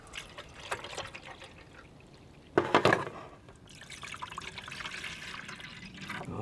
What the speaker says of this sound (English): 16 ounces of water, here we go.